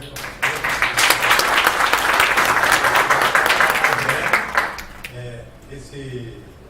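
A crowd claps in dense, sustained applause for several seconds, then it fades out and a voice begins speaking.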